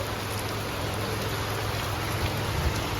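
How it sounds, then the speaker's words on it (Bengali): Heavy rain pours down in a dense, steady hiss, constant and loud with no breaks or voices. "কি পরিমাণে বৃষ্টি হচ্ছে"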